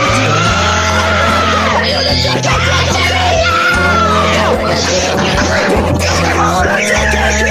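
Loud, harsh screaming fills the whole stretch, close and distorted, with shifting wails layered over a dense, rumbling, noisy background and no pause.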